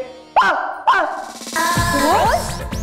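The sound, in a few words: boy imitating a dog barking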